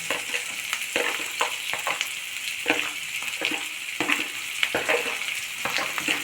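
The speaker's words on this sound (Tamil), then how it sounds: "நம்ம உருளைக்கிழங்க நல்லா ஸ்மாஷ் பண்ணி வச்சுருக்கோம் இதை வந்து இதில் சேர்த்துடலாம்" Mashed potato being stirred and folded into sautéed capsicum in a hot pan, with a steady frying sizzle and repeated scraping strokes of a spoon against the pan, close and fairly loud, with no talking.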